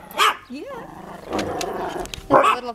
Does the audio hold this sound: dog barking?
yes